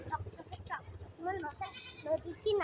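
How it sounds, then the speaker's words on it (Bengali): Young kid goats bleating in a Bangladeshi village, several short, close cries repeating over a low rumble of outdoor background noise. "ছাগল ছানা রে"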